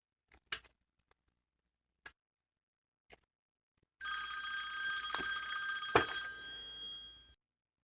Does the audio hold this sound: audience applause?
no